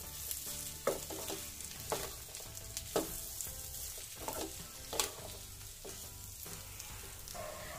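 Spices such as amchur and garam masala being stirred into potato samosa filling frying in a pan: a steady sizzle with rhythmic scraping strokes of the spoon roughly once a second, close and fairly quiet.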